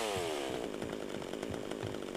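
Revving chainsaw in GTA Vice City Stories, a PS2 game, starting with a falling whine and then settling into a continuous buzzing drone with rhythmic pulses, faint and alone.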